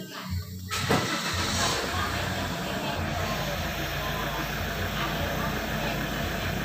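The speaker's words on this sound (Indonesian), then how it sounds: "Hidupkan mobilnya." A car engine starts up after fault codes are cleared, turning over and settling into a steady idle that continues underneath, heard close and fairly loud.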